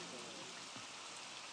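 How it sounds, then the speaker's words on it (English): Steady rain falls at a riverside campsite in Oregon, a dense, continuous hiss of drops close by that holds even from start to finish, with no voices over it. "An unpleasant sound greets the new day, rain."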